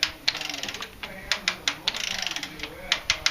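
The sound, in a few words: ratchet torquing down locomotive cylinder head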